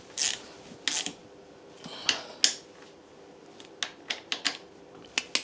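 Ratcheting clicks from a wrench tightening the front fork bolts on a Honda 50 motorcycle, in several short, sharp bursts with pauses between them, close by and with no talk.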